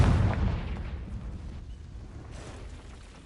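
The Confringo fire spell in Hogwarts Legacy lands with a loud, deep explosive boom at the start, then a rumbling tail that slowly fades.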